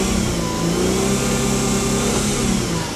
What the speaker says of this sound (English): So we'll just give it a little bit of a rev.